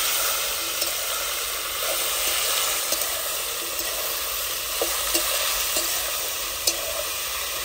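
Raw papaya pieces fry and steam in hot oil with a steady close sizzle, broken by occasional stirring scrapes and small pops throughout.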